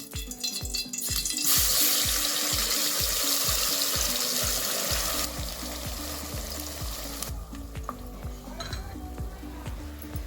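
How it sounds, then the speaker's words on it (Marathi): Masala paste frying in hot oil in a pot for a village-style chicken dish, a loud steady sizzle with rhythmic stirring and scraping of a spoon against the pot, easing slightly partway through. "तेल गरम झालं, त्यात आपण हा तयार केलेला मसाला टाकून घ्यायचा आहे."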